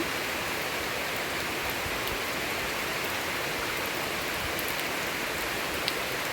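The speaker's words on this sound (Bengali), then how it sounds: "প্রচণ্ড বৃষ্টি হচ্ছে।" Heavy rain pouring steadily over a garden of potted plants, a dense, even hiss that stays loud and unbroken throughout with no voices.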